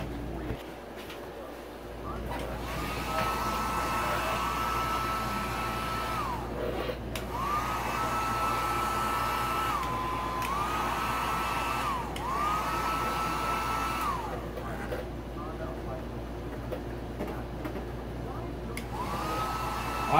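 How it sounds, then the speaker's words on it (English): A heat gun's loud, continuous blowing roar of hot air runs throughout, with a recurring whine that rises and falls as the pitch shifts, close by. "These heat guns are like, they're like a blow dryer, a hair blow dryer times 3 or 4."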